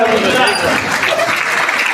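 Clapping fills the hall at a Gurav community women's gathering, a steady dense wash of applause that runs throughout and blends with voices.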